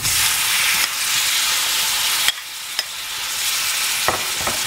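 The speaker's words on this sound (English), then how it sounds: "So our 4 sliced bananas get added in." Four sliced bananas for bananas foster frying in a hot butter-sugar mixture, a loud, steady sizzle broken by a few sharp spoon knocks and scrapes against the pan.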